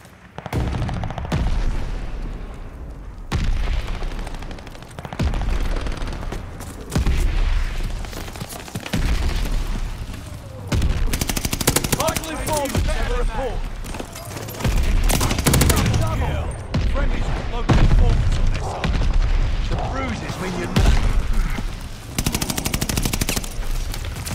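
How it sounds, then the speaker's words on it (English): Mortar barrage and gunfire in the video game Call of Duty: Vanguard, with bursts of machine-gun fire, rattling volleys and booming impacts in repeated waves over a steady din of battle. "Allies calling a mortar barrage."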